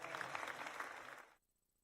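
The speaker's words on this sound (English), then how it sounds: "You got like 8 semi-rounds of applause because I've broken the thing" A canned soundboard applause effect of a crowd clapping and cheering, faint and steady for over a second before cutting off abruptly into silence.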